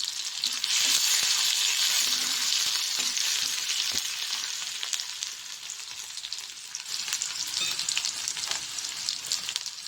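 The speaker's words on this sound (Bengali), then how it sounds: "প্রথমে দিয়ে দিচ্ছি তেলের মধ্যে রসুন বাটা" Garlic paste fries in hot oil with a loud, continuous crackling sizzle that stays bright and dense throughout, easing slightly in the middle before building again.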